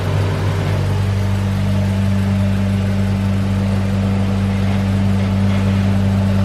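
A car with a swapped Honda B16 engine idles steadily with a strong low hum and faint whirring, and a loose bumper bolt adds a light buzzing rattle throughout; no one speaks.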